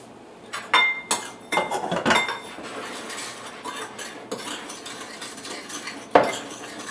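A spoon clinks and scrapes against a bowl while pepper jerky seasoning is stirred, with irregular close metallic taps and a louder knock near the end, no talking.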